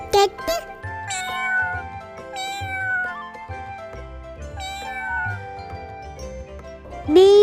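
A cat meows repeatedly in drawn-out, wavering cries, with short pauses between them and a louder meow at the end.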